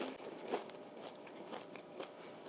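Crunchy air-fried falafel being bitten and chewed up close, with several quiet crackling crunches and no talking.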